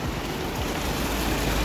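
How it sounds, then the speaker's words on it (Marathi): Light drizzling rain at Malshej Ghat during the monsoon, a soft continuous hiss of fine droplets with a low rumble from a nearby river, steady and unvaried. "तर रिमझिम असा पाऊस पडतोय"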